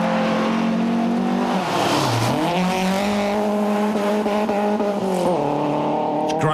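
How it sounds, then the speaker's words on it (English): Old rally cars race through a gravel stage in Hawke's Bay, engines screaming close and loud as they rev high, drop briefly with a gear change, then climb again under hard acceleration. "Great when those old cars get wound up"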